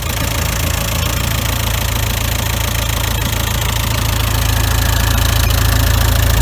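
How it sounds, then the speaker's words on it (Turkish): Volkswagen Caddy engine with a newly fitted, leaking oil cooler, running at a steady loud idle with a low rumbling, slightly knocking tone, heard up close and continuous throughout. "Şimdi marş yapacağız."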